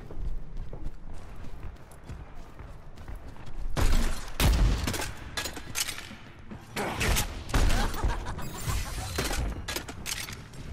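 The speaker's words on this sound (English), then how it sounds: "This bomb's for you" Bomb blasts and gunfire in the Overwatch video game, with bursts of loud explosive impacts and rattling shots clustered around the middle and later sections over a busy game background.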